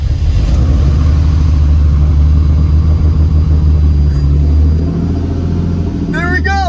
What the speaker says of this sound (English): I truly believe this is the greatest chance of this car starting right now.